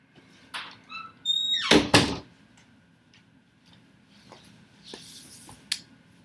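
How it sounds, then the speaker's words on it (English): A room door in a small cabana being shut, with a squeak followed by a sharp thud and rattle of the latch close by, then quiet room tone and a faint later knock. "so I'm going to close the door."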